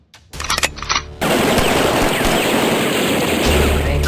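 Machine-gun fire in a battle scene opens with a few separated bursts, then becomes a dense, loud continuous volley with no voices.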